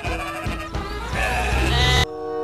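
Toy sheep bleating, a loud, wavering electronic baa with a tonal buzz that runs about two seconds and then cuts off sharply.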